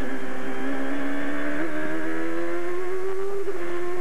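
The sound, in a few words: race car engine revving over bumps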